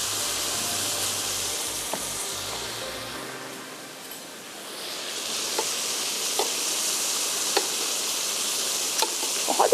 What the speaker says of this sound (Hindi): मैं इसको स्पून की मदद से अच्छा सा मिक्स कर लेती हूँ।